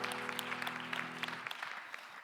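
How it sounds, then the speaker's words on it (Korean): A church congregation claps together in a dense burst of applause under fading organ or keyboard chords, and the clapping thins out toward the end. "박수로 서로의 삶을 응원하며 축복합니다"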